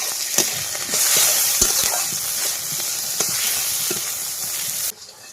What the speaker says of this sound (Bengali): কড়াই একটু তেল আছে, 5 ফোড়ন দিয়ে দিচ্ছি